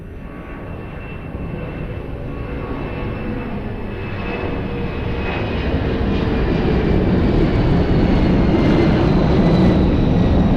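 Airliner taking off from runway 02 at Lisbon Airport, a steady broad jet engine roar that swells gradually louder over about ten seconds, heard from a distance with no voices.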